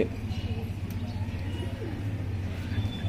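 Pigeons coo softly at a rooftop pigeon-keeping loft, low repeated calls against a quiet background.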